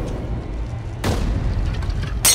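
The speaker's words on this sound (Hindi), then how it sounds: "वो पेट्रोल बम फेंक रहे हैं।" A petrol bomb explodes in an action film scene, a sudden loud boom with a roaring rush that sustains, followed by a second sharp burst near the end; no speech over it.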